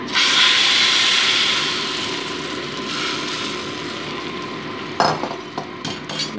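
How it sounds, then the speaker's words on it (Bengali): Hot oil tempered with five-spice seeds is poured over vegetable khichdi, setting off a loud, close burst of hissing sizzle that fades to a softer simmer, followed by a few utensil knocks. "এবার আমি এটা ফোড়ন দিয়ে নিচ্ছি খিচুড়িটা।"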